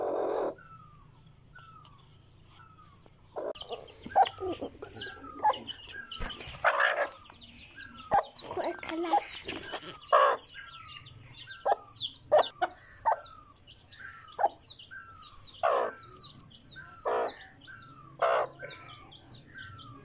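Peshawari seel hen clucking close by in a farmyard, a series of short sharp clucks repeated at irregular intervals, with a louder flurry of calls and other birds in the background.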